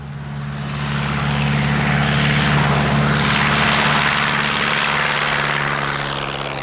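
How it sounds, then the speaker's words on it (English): A de Havilland Tiger Moth, a classic wooden biplane of light aircraft type, drones overhead with its propeller engine, a loud steady roar that swells and fades slightly as it passes, with no voices. "I've always liked light aeroplanes, and the Tiger Moth is a classic."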